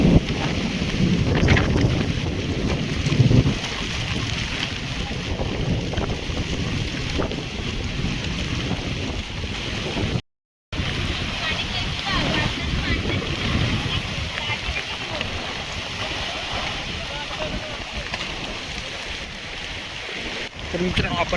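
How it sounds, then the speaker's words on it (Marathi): Sudden storm wind roars through a village in Turumbadi during a May thunderstorm, a steady loud broadband rush with gusty buffeting on the microphone lasting throughout, briefly cutting out near the middle. "अचानक आलेलं हे वादळ"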